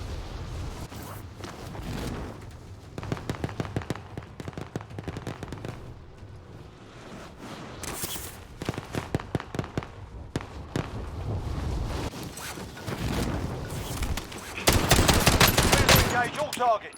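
In-game gunfire from Call of Duty Warzone: bursts of automatic weapon fire and single shots crackle through a busy game mix, growing dense and loud toward the end, with faint speech in places.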